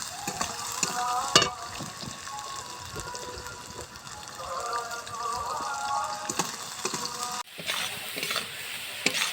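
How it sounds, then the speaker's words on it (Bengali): Carrots crackle and sizzle in a hot pan, with steady stirring and scraping throughout, close and fairly even in volume. "যেই গাজরটা কুচিয়ে রেখেছিলাম এটা আমি ভেজে নেব"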